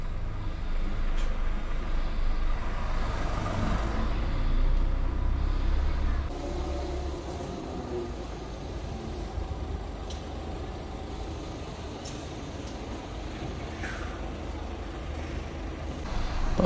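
A truck manoeuvring to back into a loading dock in Portugal, its low engine rumble steady and close throughout, with faint hisses and clanks now and then.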